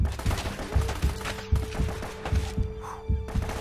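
Gunfire in the video game Uncharted: repeated low thudding shots in an irregular burst rhythm, fairly loud and close, with a steady background hum and no speech.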